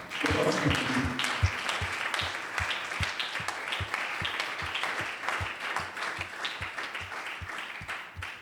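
Audience applause at a public-speaking event in an African village, steady dense clapping with rhythmic beats lasting throughout, loud and continuous without talk.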